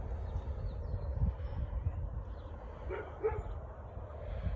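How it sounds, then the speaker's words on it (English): A dog barks a few times at a distance near a garden, faint yips standing out over steady low outdoor rumble. "I hear Archie barking, but I don't see what he's barking at."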